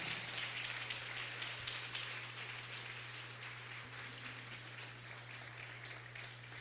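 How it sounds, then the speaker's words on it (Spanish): Church congregation applauding during a sermon: a steady, faint wash of clapping heard from a distance, continuous for the whole stretch with a low electrical hum underneath. "Dale un fuerte aplauso al Señor."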